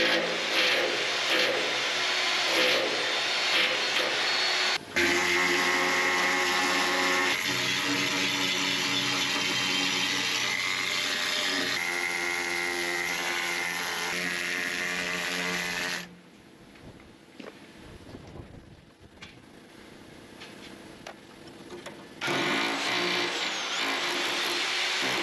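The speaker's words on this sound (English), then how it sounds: "Dane finds moving between the hammer drill and the needle gun really good" A hammer drill and needle gun work a hard surface with loud, steady rattling and hammering, stopping briefly before a quieter stretch and starting up again.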